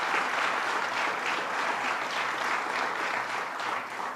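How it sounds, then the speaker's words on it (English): Dense, continuous applause from a large audience at the grand opening of the National Comedy Center in Jamestown, steady and even for about four seconds. "Let's give them a round of applause for their good work."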